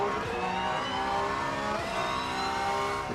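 A race car engine in the racing game Rennsport, on the Nürburgring, holds a loud, sustained high rev, rising and dipping slightly as it accelerates, with no talk over it.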